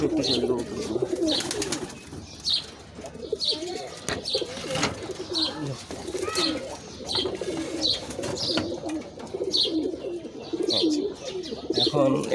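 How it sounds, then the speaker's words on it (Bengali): Khaki and Giribaz pigeons in a home loft coo repeatedly at close range, with soft chirps and an occasional wing flutter in the continuous, layered calling. "এখন এখানে যতগুলো কবুতর আছে সবগুলো হচ্ছে কি আমার বাসার বাচ্চা কবুতর"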